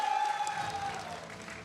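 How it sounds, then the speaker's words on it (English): Audience applause for the champion at a card games festival in Kuala Lumpur, a short burst of clapping that fades out under a steady ringing tone. "Please give him another round of applause"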